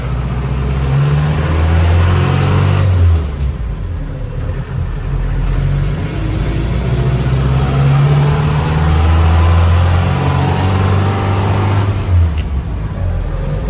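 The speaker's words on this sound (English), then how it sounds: "Test drive. 1976 Toyota. I got her in 2-wheel drive, too high, so it should be able to go at least 30 mile an hour." A 1976 Toyota Land Cruiser BJ40 engine on a test drive in two-wheel drive, loud and close, droning and rising through the gears with brief dips between shifts, no talking.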